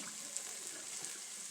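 Oil sizzling in an Instant Pot while pancit with ramen cooks, a faint, steady, hissing crackle with tiny pops, heard close up and alone.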